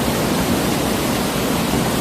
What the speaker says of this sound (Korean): 계곡물 흐르는 속도가 너무 빨라서 가까이 다가갈 엄두가 안 나네요.